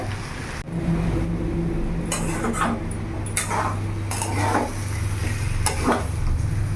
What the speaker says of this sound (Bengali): এইভাবে আমার কিছুক্ষণ ভাজা হবে আরও।